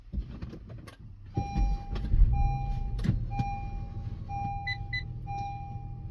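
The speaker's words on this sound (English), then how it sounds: "we're going to go ahead and start up the vehicle" A car is started and settles into a low idle rumble, while repeated electronic dashboard chimes and beeps sound clearly over it.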